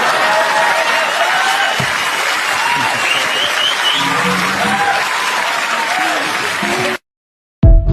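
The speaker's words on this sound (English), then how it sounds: "You're supposed to clap right there." Dense audience clapping and applause fills most of the stretch, loud and continuous with crowd noise and some talk underneath, then cuts off abruptly into silence before a brief final burst.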